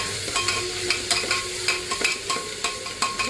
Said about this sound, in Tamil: வெங்காயம் வதங்கினதுக்கப்புறம் தக்காளியும் போட்டு நல்லா வதக்கிக்கிடுவோம்